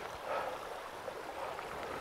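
Water from a strong spring flows at a ford on a nature trail, a steady, close rushing and gurgling with no other sounds.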